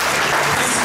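A church congregation applauding during a healing and deliverance service in Mauritius, dense loud clapping filling the whole brief moment.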